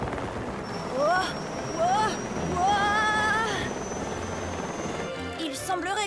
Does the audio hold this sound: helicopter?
yes